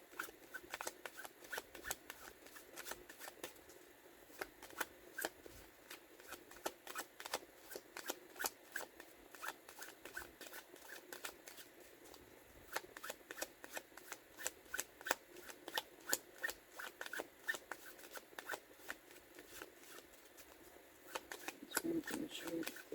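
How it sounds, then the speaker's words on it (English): A deck of tarot cards is shuffled continuously with rapid, crisp riffling flutters, close and steady throughout, fairly quiet. "I'm just going to pull 4 more of these cards."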